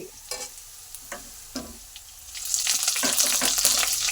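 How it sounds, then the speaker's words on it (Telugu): Onion, peanuts, mustard seeds and green chillies fry for upma, starting with a few scattered pops and scrapes and then building into a loud, steady sizzle up close. "ఉల్లిపాయ, వేరుశనగ గుళ్ళు, ఆవాలు, పచ్చిమిర్చి వేసి బాగా ఫ్రై చేయాలి"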